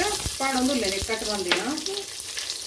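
Onions fry in a pan for a Mangalorean-style crab sukka, giving a close, crackling sizzle with a few sharp pops. A person speaks over the frying.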